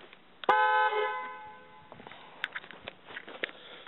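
One loud blast from a deep aftermarket horn on a 2004 Jeep Wrangler, lasting about a second and a half, followed by faint handling noises and shuffling.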